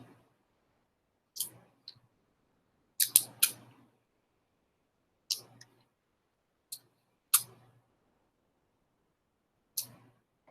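Tape is pulled and pressed down at the corners of a sheet of paper, heard as short, crisp, isolated tearing rips with quiet gaps between them, about eight in all, close and otherwise silent.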